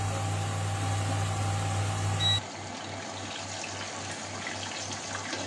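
Chicken cordon bleu is lowered into hot oil: a steady low hum gives way to a broad, even sizzle that carries on evenly and close.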